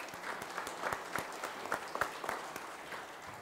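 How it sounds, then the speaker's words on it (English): A church congregation at a Sunday service applauds its confirmands, scattered hand claps of moderate density heard at some distance and fairly faint, continuing steadily throughout. "How about one more round of applause for our confirmands?"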